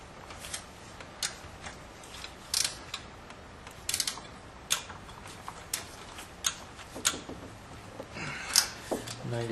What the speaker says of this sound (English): So you tighten them until they click right there